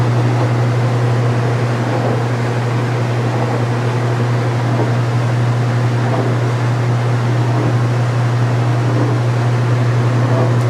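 A washing machine spinning out at the end of its cycle, running with the cover open, produces a loud, steady hum with a strong low tone and an even whooshing drone that does not change throughout.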